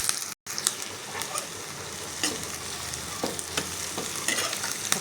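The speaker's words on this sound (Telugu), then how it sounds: "ఒక నిమిషం బాగా ఫ్రై అవ్వనిద్దాం" Onions frying with green chilies and curry leaves for gongura egg curry: a steady, close sizzle with intermittent stirring scrapes, briefly cutting out near the start.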